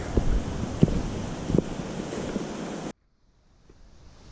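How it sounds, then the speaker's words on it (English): A creek waterfall on the Meigs Creek hiking trail gives a broad, steady rushing roar with some wind buffeting on the microphone, then cuts abruptly to near silence for the last second and a half. "I believe this is a waterfall"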